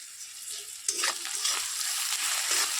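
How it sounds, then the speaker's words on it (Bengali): Onion, garlic and bay leaf frying in hot oil in a pan, a steady close sizzle with a sharper burst as ingredients hit the oil and light stirring throughout. "তেজপাতা আর পেঁয়াজ রসুনটা দিয়ে দিয়েছি"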